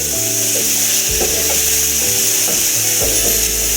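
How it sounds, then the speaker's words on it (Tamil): Carrots, beetroot and coriander leaves for tomato soup get stirred in a hot pan, a constant sizzle under repeated scraping strokes of a spoon roughly every half second, close and with no voices. "ஒரு 2 நிமிஷம் கிளறி வைக்கணும்"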